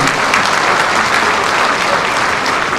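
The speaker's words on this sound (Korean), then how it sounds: "네, 박수 한번 부탁드리겠습니다." A crowd at a town hall meeting with the city mayor claps loudly and steadily, a thick, sustained burst of applause filling the room without talk on top.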